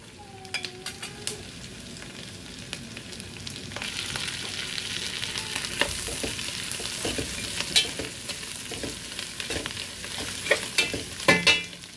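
Carrots and mushrooms fry in oil with a steady sizzle, punctuated throughout by repeated clattering stirs and scrapes of a utensil in the pan, growing busier toward the end.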